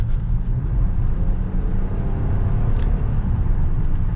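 A 2022 Nissan Pathfinder Platinum 4WD builds speed on the road, with a loud, steady low engine and road rumble filling the cabin alongside constant tire and wind noise.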